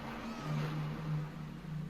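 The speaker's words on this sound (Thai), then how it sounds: "โอ้แมวก็ร้องจังเลย" A cat meows in a Thai horror game, a drawn-out tonal cry with rising and falling pitch that swells twice over a low, steady background drone, fairly close and clear.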